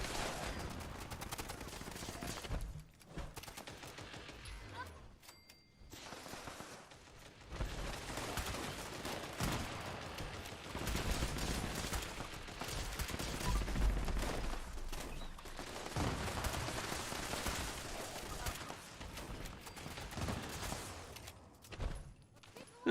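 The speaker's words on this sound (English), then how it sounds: "somebody's definitely firing explosives" Explosive weapons firing in Fallout 76: dense, continuous bursts of gunfire and blasts, loud and rolling with a few short gaps, like a sustained firefight.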